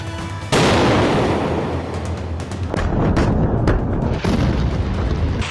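Heavy explosions and artillery fire during a rebel offensive on government military positions around Aleppo, Syria: a loud sudden blast opens, followed by sustained rumbling roar and several sharp cracks, with no speech.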